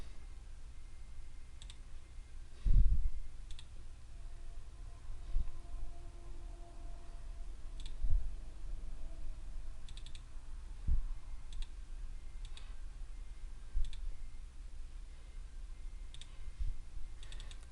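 A computer mouse gives sparse, sharp clicks at irregular intervals while working in CAD software, quiet and close against a faint steady hum, with no voices.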